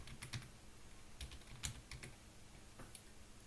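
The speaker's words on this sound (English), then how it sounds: "I'll go ahead and type that again like I did last week." Someone types on a computer keyboard, making stickers; light, quiet key clicks come in an uneven run of taps at close range with no talking.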